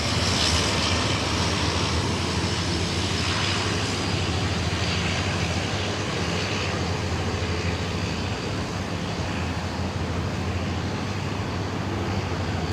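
A Boeing 737-800 jet taking off at Sydney Airport, a loud, sustained engine roar with a broad rumble and a steady hiss that holds near constant throughout, heard from nearby without voices.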